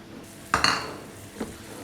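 Onions tipped into a hot pan of spices for basmati rice, landing with a sharp clatter and sizzle followed by a brief scrape of stirring, close and alone with no talk.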